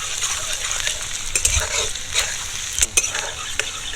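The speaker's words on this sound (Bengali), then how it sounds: "এগুলোকে দিয়ে হাফ মিনিট মতো নাড়াচাড়া করে নিয়েছি" Garlic, ginger and green chili fry in hot oil as a spoon stirs them, a loud continuous sizzle broken by several sharp scraping and clinking strokes against the pan.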